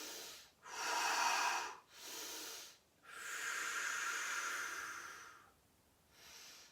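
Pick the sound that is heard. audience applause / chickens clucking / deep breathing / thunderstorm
deep breathing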